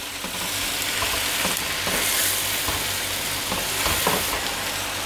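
Kofta curry ingredients sizzle and fry steadily in a pan, a continuous close crackle with a few brief stirring knocks and no talk.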